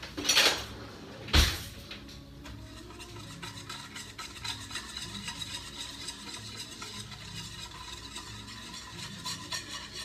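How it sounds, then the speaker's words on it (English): A whisk beats a mixture in a bowl, meant for the slits cut into a fish. Two sharp clinks open, then a steady, rapid swishing and scraping rhythm continues close up for several seconds, with no talking. "now we're going to whisk this together, which means getting out the whisk"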